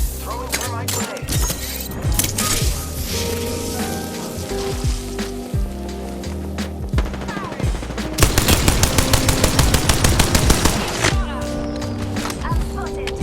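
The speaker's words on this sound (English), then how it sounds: "I'm spotted. Taking fire." Rapid automatic gunfire rattles in a video game shootout, in dense sustained bursts that intensify toward the end, with game voices and effects layered over it.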